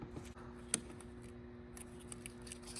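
A smoked-style side marker lens on a 2022 Chevy Equinox RS snaps into place, giving one sharp, faint click against a quiet background, with a few softer handling taps after it.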